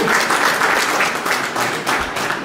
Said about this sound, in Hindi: जोरदार ताली बजा करके हम उनका स्वागत अभिनंदन करेंगे।